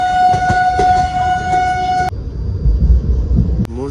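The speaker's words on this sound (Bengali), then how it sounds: "এই ট্রেন ছাড়লো একদম নির্ধারিত সময় ব্যান্ডেল স্টেশন থেকে" The 13187 Maa Tara Express pulls out of Bandel station, with a loud sustained horn blast that cuts off abruptly, followed by rumbling train noise, a brief squeal and rhythmic clatter close by.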